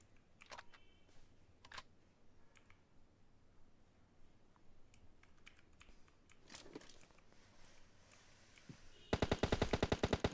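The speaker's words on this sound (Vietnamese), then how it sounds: "Ok, hai thằng bắn nhau rồi." PUBG Mobile gunfire: scattered faint distant shots, then a loud rapid automatic burst near the end, with soft clicks throughout.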